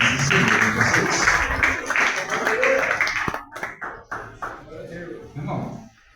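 A church congregation applauds in a dense wash of clapping for several seconds, overlapping a voice speaking, before fading into talk with a few stray claps.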